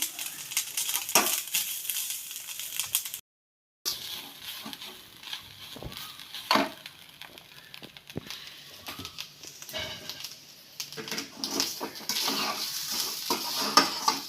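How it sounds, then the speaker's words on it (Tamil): Grated coconut, about a cup, dry-roasting in a pan over a low flame, with scraping stirs and faint crackle throughout, broken by a brief silent gap early on. "தீயை குறைய வச்சு இப்படி நம்ம கொஞ்சம் முதல்ல தேங்காயை வறுத்துக்கிடுவோம்"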